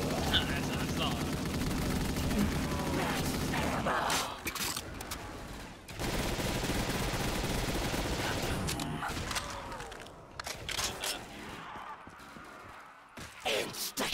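Modded zombies mode in Black Ops 3 fills the scene with dense, continuous video game gunfire, loud and rapid. Players talk excitedly over it, and the shooting thins out and breaks up toward the end.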